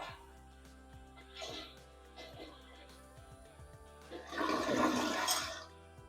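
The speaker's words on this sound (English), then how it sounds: "Once it does that and washes all the hardener down, then you're good to go ahead and flush" A toilet is flushed after being reset on its base, with a rising rush and swirl of water at close range that swells, then tapers off, following some quieter faint sounds.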